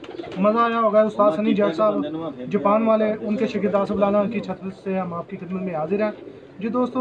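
Champion breed pigeons coo in repeated soft, throaty rolls on a rooftop in Sheikhupura, close and clear, while someone talks continuously over them.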